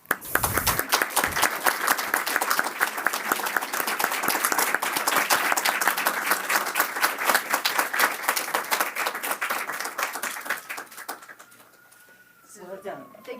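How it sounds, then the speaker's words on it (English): An award ceremony audience breaks into sustained applause, a dense, lively crowd clapping for about eleven seconds before it dies away, followed by quieter room sound with faint voices. "Please join me in another round of applause"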